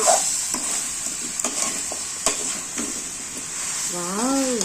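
Drumstick curry being stirred in a pan, the spoon scraping and clacking in scattered strokes over a steady sizzle, with a short voice near the end.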